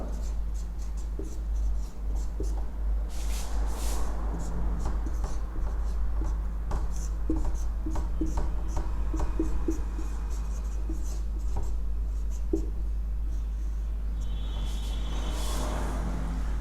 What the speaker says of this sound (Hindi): पहले मैं स्टेप नंबर 4 वाली इक्वेशन लिख रहा हूं यहां पर